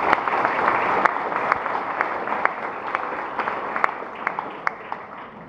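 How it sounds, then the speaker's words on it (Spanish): A strong round of applause from an audience at a legislator's activity report event, a steady mass of clapping with scattered louder individual claps, sustained without talk and easing slightly toward the end. "Para él mi reconocimiento y un fuerte aplauso."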